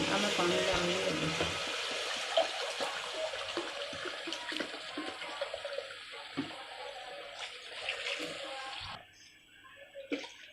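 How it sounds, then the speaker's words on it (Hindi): Water splashes steadily into a cooking pot while brinjal rice is being made, a continuous rushing pour that tapers off near the end, with someone talking over it. "अब मैं पानी डालने लगी।"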